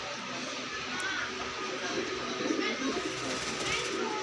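Pigeons coo softly at a market pigeon sale, faint murmuring calls under steady background noise, with a person's voice also present.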